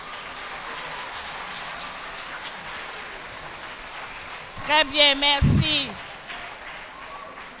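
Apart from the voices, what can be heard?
parents applauding themselves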